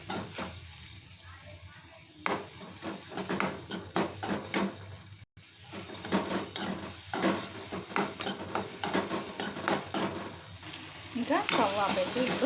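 Coriander seeds, cumin and curry leaves sizzle and fry in a pan while being stirred, a steady crackling hiss with scraping stirs throughout, ahead of grinding for a brinjal chutney; a person talks over the cooking.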